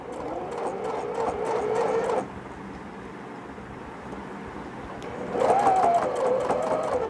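Sewing machine stitching a head rest onto a baby swaddle, running in bursts of rapid mechanical whirring with a pause midway and a slightly stronger final run, close and alone without talk.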